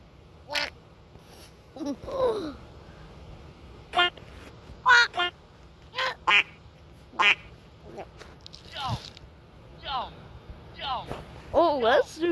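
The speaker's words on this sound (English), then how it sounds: "Next up we have the duck." A game or toy duck quacks in a series of short, loud, nasal bursts spaced irregularly over several seconds, with some brief chatter between them.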